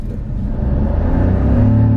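A Toyota Raize engine revs up in sport mode, a loud, rough rumble that climbs steadily in pitch, close and continuous with no voices.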